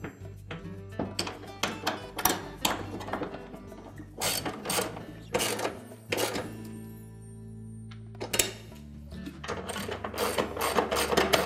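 Bolts tightened on a GE washer outer tub during repair, with a steady string of sharp metallic ratcheting clicks and clunks in quick bursts, close and moderately loud, with brief pauses between runs.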